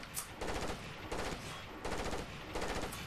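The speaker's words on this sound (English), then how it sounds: "What the hell is he shooting at?" Repeated bursts of automatic gunfire from Rainbow Six Vegas 2, four sustained volleys in quick succession, loud and close with short gaps between them.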